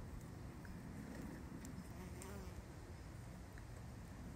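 A bee buzzes close by outdoors in Topanga, California, a continuous hovering drone that stays steady and fairly near, with no talk.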